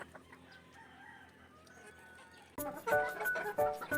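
Free-range chickens, including young roosters, cluck loudly and close by in a backyard range area. Quiet farmyard ambience comes first, then a sudden burst of busy, overlapping clucks and calls fills the second half.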